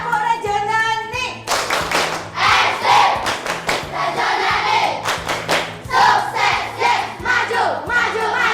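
Schoolchildren in a classroom perform a rhythmic clapping chant, shouting syllables in unison while clapping hands in patterned bursts, loud and close, with a teacher's voice briefly leading at the start.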